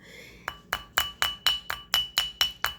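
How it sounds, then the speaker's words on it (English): Ten evenly spaced taps of a rawhide or nylon rubber hammer on a wire-wrapped metal ring, each a sharp strike with a short bright ringing tail. "we're going to take the rawhide hammer or rubber hammer or whichever one you have, the nylon rubber one"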